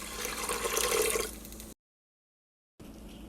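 Four cups of water pour in a rushing stream into an Instant Pot holding a cup of cornmeal for polenta, loud for over a second before tapering off, followed by a cut to silence and faint room noise.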